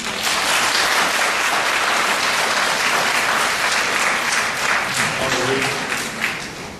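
Warm applause from an audience at a Korean panel discussion on hospital room fees: dense, sustained clapping from many hands, loud and continuous, easing slightly near the end.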